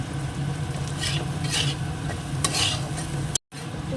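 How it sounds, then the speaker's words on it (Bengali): A spoon scrapes and stirs egg bhujia into fried rice in a hot pan, soft rhythmic scraping over a steady sizzle, close and moderately loud, with a brief drop to silence near the end. "ডিমের ভুজিয়াটাও দিয়ে দিলাম একবারে মিক্স করে দিয়ে"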